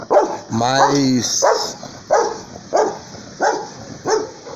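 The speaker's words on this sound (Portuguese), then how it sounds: "Pensa numa cadela nervosa" A nervous, tied-up female dog barks loudly and repeatedly at close range, starting with a whining howl, then a steady series of sharp barks at roughly even intervals.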